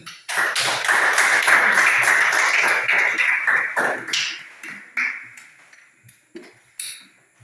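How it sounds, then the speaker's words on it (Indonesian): A burst of quick, dense hand clapping from a group of schoolchildren, loud and close, then tapering off into a few scattered claps. "Tepuk tangan dulu."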